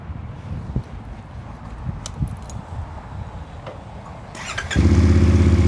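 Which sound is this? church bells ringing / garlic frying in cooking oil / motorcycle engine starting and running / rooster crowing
motorcycle engine starting and running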